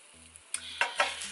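An egg fu yong omelette with oysters and barbecue pork fries in a pan: a quiet sizzle broken by a few soft bursts of spatter over a low steady hum.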